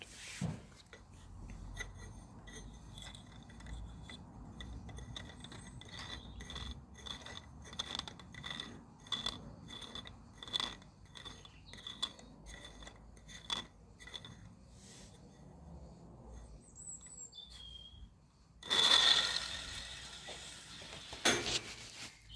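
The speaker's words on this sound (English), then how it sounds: "even with the extra weight of those wheels, we've still got wheel spin" A rubber band powered toy car with heavy HDD platter wheels spins on a floor, giving a fast, rhythmic ticking whir of repeated clicks that fades out, followed by a brief rattling clatter near the end.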